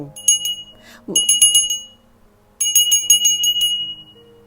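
A bright notification bell sound effect chimes in two quick clusters of rapid, ringing dings, separated by a swooping whoosh and a short silence, loud and close.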